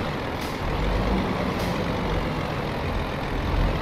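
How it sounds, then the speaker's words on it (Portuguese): Deep, steady engine roar of a DAF truck in Euro Truck Simulator 2, hauling 13 tonnes of gas, a loud continuous drone with two brief hissing bursts, no talking over it. "Olha o ronco desse caminhão da DAF, velho."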